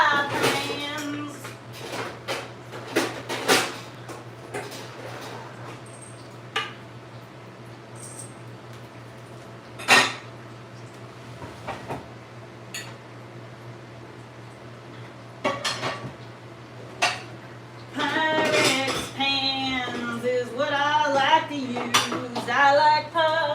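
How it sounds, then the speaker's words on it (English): Pyrex pie pans and glass baking dishes handled and set down, giving sporadic close clinks and knocks over a steady hum, with a denser run of clattering toward the end and a voice briefly heard. "Baking dishes. Pie pans. Pyrex pie pans."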